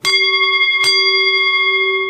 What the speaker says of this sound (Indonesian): Lalu bel pun berbunyi.